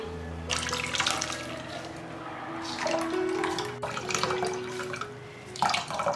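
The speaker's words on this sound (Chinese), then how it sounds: "用纱布袋把汁过滤出来" Bamboo leaf juice thinned with a little water is strained through a gauze bag, giving close, quiet trickling and splashing in uneven bursts with brief pauses between pours.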